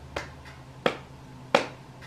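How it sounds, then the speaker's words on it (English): Three single hand claps spaced about a second apart, sharp and fairly close, in a home music lesson setting, with a quiet hum underneath and no talking. "can you make the same clap back to me?"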